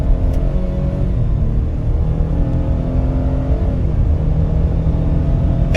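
A 2025 Ford F-150 pickup accelerating hard up a highway on-ramp, its engine a steady loud rumble with rising harmonic pitch that holds throughout, heard from inside the cab with no talking.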